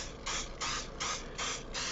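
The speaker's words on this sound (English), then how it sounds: "Here I'm spraying these with just some good old-fashioned canola oil." Canola oil sprayed from a can onto nine burger buns for a keto burger, heard as four separate hissing bursts in an even rhythm, close and fairly quiet, with no talking.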